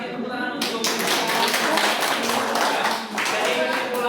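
Participants in a teacher-training open class on Pancasila education clap, a fairly close burst of many hands that starts abruptly and continues unevenly, with voices mixed in.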